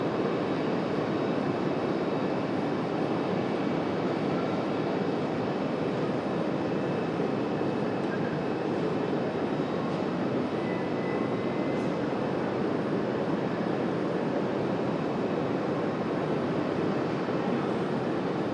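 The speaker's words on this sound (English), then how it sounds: "We've got a CRJ coming up off in the distance out there." A CRJ regional jet departs Raleigh-Durham International Airport, its engine noise a loud, sustained, steady roar filling the scene without a break.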